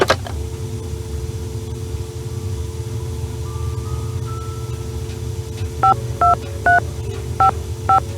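Telephone dialing tones in the Nancy Drew game The White Wolf of Icicle Creek: five short, clear beeps near the end, evenly paced, over a steady low ambient drone.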